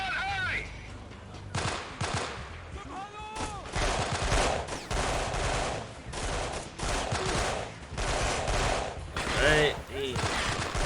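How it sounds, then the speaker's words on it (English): Gunfire in the video game Delta Force Black Hawk Down comes as repeated bursts of automatic AK fire and single shots spread across the stretch, loud and close, with voices speaking over and between the volleys. "Stop shooting. We're not the enemy. 2-1, watch your fire!"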